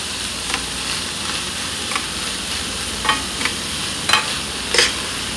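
Canned corned beef hash frying in a pan, a steady soft sizzle broken by several short scraping stirs of a utensil, close and fairly loud, with no talking.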